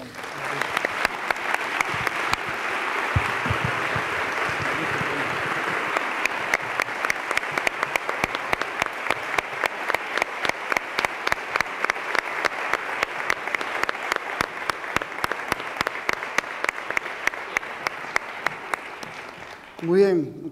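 Sustained, steady applause from a large audience at a Seville Holy Week gala, continuing for about twenty seconds with a dense, even wash of clapping that ends with a brief voice.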